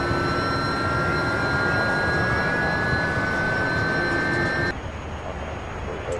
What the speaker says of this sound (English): Alright, we're gonna start up engine number 2.